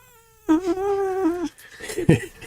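An orange cat lets out one drawn-out, wavering meow up close, lasting about a second, followed by a few softer rustling and shuffling noises.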